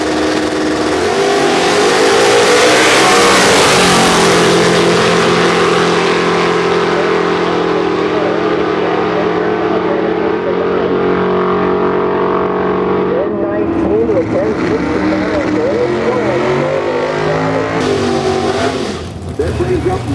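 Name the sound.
Ford Mustang drag racing car accelerating down the lane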